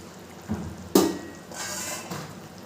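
Eggs in a pan for Bengali egg curry, a soft sizzle under a scrape of stirring, then a sharp metallic clank of a lid being set on, followed by a muffled, steady frying hiss.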